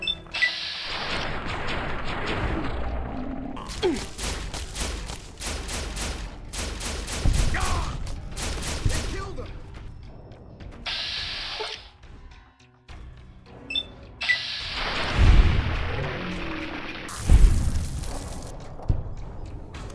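Gunshots in the video game Fallout New Vegas near the town of Primm, irregular loud bursts of rapid fire and single cracks separated by quieter gaps, close and harsh.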